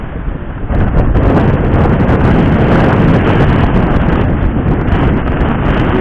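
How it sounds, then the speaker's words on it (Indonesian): Strong wind buffets the microphone at a seaside fishing spot in Tanjung Priok, a loud continuous roar that rises after the first second and holds steady with gusty fluctuations, with no talk. "anginnya kencang banget"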